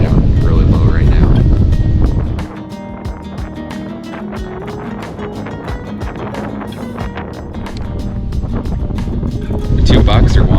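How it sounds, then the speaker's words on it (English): Strong wind gusts roaring outdoors in desert deer country during spitting rain, a loud broadband rush that eases briefly after the first couple of seconds before building again, with people talking over it. "It's really, really windy right now, spitting rain"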